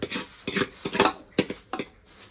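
Hot food is stirred in a pot on a Makar Sankranti morning, a series of close scraping and clanking strokes in an uneven rhythm, about six or seven strokes in quick succession.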